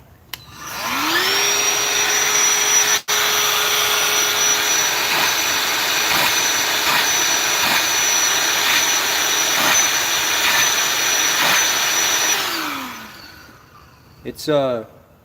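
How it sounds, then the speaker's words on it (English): A cordless 20-volt battery vacuum cleaner runs in a truck's engine bay around the valve cover. It spins up, holds a steady loud whine for about ten seconds, then winds down. A faint click comes near the start. "I take this up on the engine bay when I'm up there and I need to get down around the valve cover and all that and vacuum everything up"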